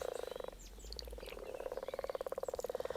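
Frogs croak at a garden pond in spring, a close chorus of rapid, rattling pulses repeating in rhythmic bursts with a short pause, no voices present.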